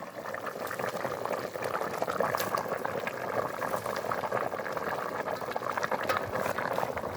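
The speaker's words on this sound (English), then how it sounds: "we're heating up our soup again" Soup bubbles and simmers vigorously in a pot, a steady close-up burble with occasional pops, continuous and fairly quiet with no talking.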